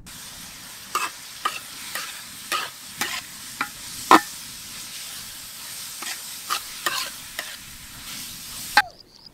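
Finely chopped onion frying in cooking oil for a garlic mutton curry, a steady sizzle interrupted by a dozen or so sharp scraping stirs of a spoon against the pan, close and fairly loud, ending abruptly.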